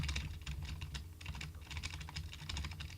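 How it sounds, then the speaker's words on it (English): A loud, well-worn computer keyboard typed on rapidly at close range, dense clacking keystrokes forming an uneven but continuous patter with no talk. "I'm sorry if this is kind of loud, because, again, my keyboard's not the, prettiest."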